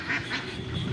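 White ducks beside a fish pond quacking, a few short nasal calls in quick succession, close and clear.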